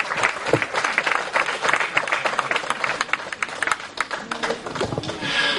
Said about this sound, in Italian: Un altro applauso alle nostre meravigliose e fantastiche modelle e modelli.